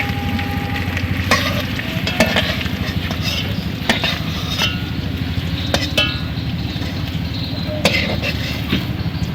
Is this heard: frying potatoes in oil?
yes